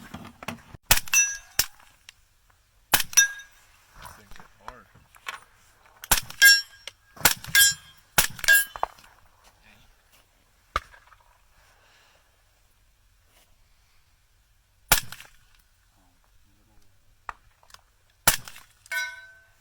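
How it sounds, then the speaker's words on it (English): A 300 Blackout rifle firing 225 gr rounds at steel targets hung on chains: sharp shots with ringing metallic clangs, bunched in quick clusters early on, then a few spaced single shots after a quiet stretch. "I'm shooting through the chains for the second target behind it."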